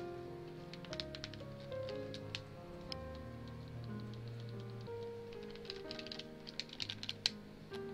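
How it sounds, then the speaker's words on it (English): Clacking on a computer keyboard during a late-night session of the RPG I am Setsuna, with quick irregular bursts of keystrokes over steady game music. "apparently I gotta use keyboard for this"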